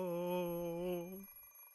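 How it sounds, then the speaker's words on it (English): An electronic alarm clock in the visual novel Fate Stay Night rings with a steady, bright, sustained tone for about a second before cutting off, leaving a faint hum. "The alarm clock is deaf to my complaints"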